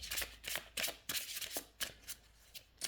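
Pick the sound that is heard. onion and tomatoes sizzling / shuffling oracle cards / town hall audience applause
shuffling oracle cards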